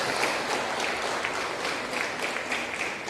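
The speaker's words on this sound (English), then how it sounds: "As she comes, I will give a round of applause for her." Steady applause from a church congregation at a farewell service, dense and continuous clapping filling the room from start to finish without letup.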